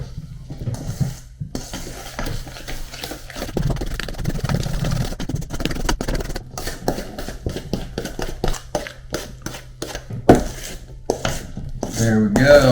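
Dutch butter cake batter is mixed in a bowl with loud, rapid rhythmic beating and scraping, close up, with a few brief pauses and no talking.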